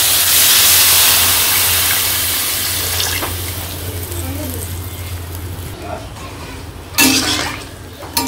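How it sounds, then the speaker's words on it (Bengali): Water poured into a pan of fried-down vegetable curry in a village kitchen, a loud rushing pour that fades into a gentle bubbling, followed by a few clanks of a utensil near the end. "তো জলটা দিয়ে দিই"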